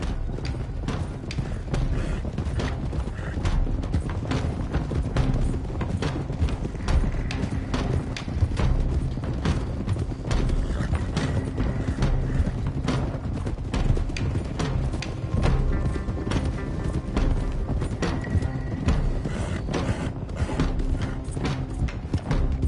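Horses ridden in Red Dead Redemption 2 with continuous clip-clopping hooves in an irregular trotting rhythm, accompanied by creaking tack and ambient game sound, fairly close and steady throughout.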